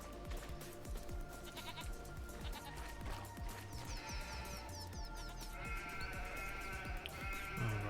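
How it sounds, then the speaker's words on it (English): Goats bleating repeatedly while traveling in Farming Simulator 25, faint overlapping calls over a busy bed of background game sounds. "Travelling goats are so noisy."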